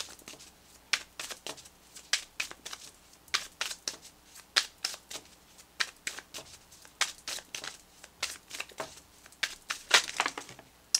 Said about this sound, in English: So let's pull you an additional guidance card,